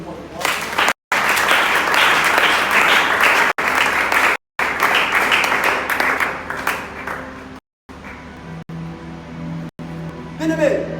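A church congregation applauding and cheering together, a dense, loud wash of clapping that runs nearly throughout with a few brief breaks, fading somewhat toward the end, with voices mixed into the crowd noise.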